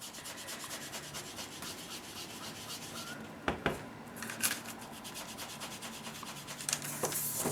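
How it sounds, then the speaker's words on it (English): An ink dauber rubs across packing paper in quick repeated back-and-forth scrubbing strokes, close and soft, with a few louder taps partway through and no talk. "so we'll grab the dauber, different dauber for this color, and then I will apply it to my paper"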